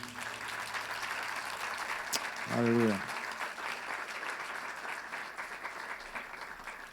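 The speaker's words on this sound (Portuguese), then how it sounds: "Você pode aplaudir ao Senhor." A church congregation applauds steadily during a worship service, with a brief voice calling out partway through.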